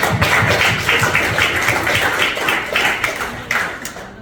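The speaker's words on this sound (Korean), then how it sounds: "박수 한번 보내주십시오" An audience at a Korean gathering clapping, steady dense patter of many hands throughout, fairly close and continuous.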